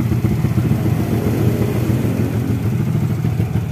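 Suzuki Smash 115 motorcycle engine on a cold start, revving hard and holding steady near its RPM limit, a loud, continuous buzzing drone close by with no talk.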